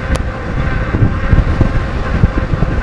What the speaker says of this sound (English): Into some heavy wind,